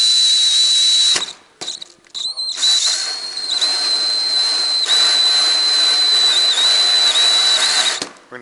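A loud power drill with a hole saw whines steadily with a high-pitched tone, cutting into a chest freezer lid, pausing briefly a couple of times before grinding on through the cut.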